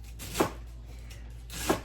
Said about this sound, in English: And I'm just chopping my celery.